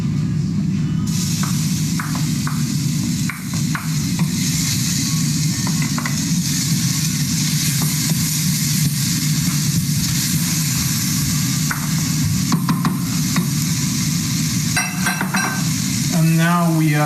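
Rice and onions frying in a hot pan, a loud steady sizzle throughout with scraping and stirring clatter of a utensil against the pan and a few brief metallic knocks near the end.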